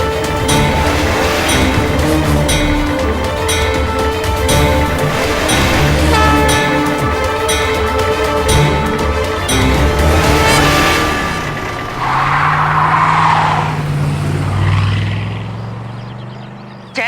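Vehicle noise with a sustained mechanical roar and rattling that gives way near the end to a brief screeching, squealing burst as a car brakes suddenly to a halt.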